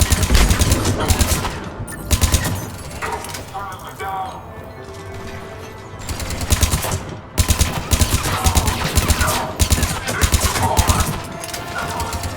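Rapid bursts of weapon fire in Mass Effect Legendary Edition come in repeated volleys of sharp shots with short pauses, loud and close, under someone talking.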